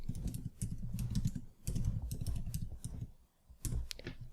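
Rapid, irregular keystrokes on a computer keyboard while entering a name into an Excel spreadsheet, close and clear, with brief pauses between bursts of typing.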